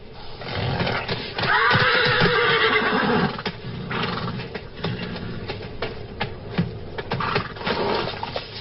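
Wild desert horses whinny loudly and repeatedly at close range while hooves clop and shuffle underneath.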